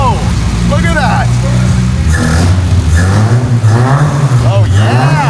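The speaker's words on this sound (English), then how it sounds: "Let's start the car." An old car's engine fires up and revs loudly and repeatedly, rising and falling in pitch, while people cheer and shout excitedly over the roar.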